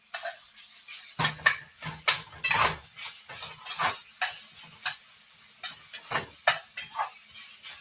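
A utensil stirs a tofu scramble with veggies in a pan, making a string of crisp, close scrapes and clacks against the metal in an uneven rhythm, with faint sizzling between strokes.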